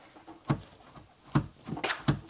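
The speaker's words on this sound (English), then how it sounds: "This back screw, if you loosen that off, you can pull the door forward" A kitchen cabinet door on an adjustable hinge is pulled forward by hand, giving three soft, close knocks and clicks spaced about a second apart, with a brief brighter rattle in between.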